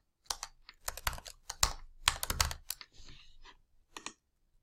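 Someone types a passphrase on a computer keyboard in irregular bursts of crisp, close key clicks, pausing briefly between groups of strokes, with no voices.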